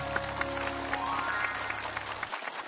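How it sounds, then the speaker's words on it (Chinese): A studio audience applauds to welcome a guest onto the stage of a televised talk show, a dense, even patter of clapping that holds steady for a few seconds before thinning out. "我们掌声欢迎他。"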